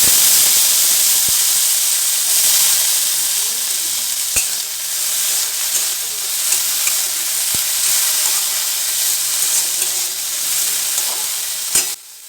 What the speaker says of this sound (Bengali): এই সবগুলো ভালো করে ভাজা হয়ে গেলে ওই কেটে রাখা আলুটা দিয়ে দেবো।